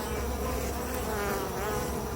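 Honey bees buzzing in an opened summer hive, a dense, close, continuous drone from many bees with no voices over it.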